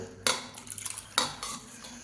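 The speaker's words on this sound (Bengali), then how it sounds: "এবার চালের গুঁড়ো দেব আর দেখে দেখে গোলাবো" A utensil stirs rice flour into warm water for pitha batter, with two sharp clinks against the bowl and scraping, swirling strokes in between, close and clear with no voices.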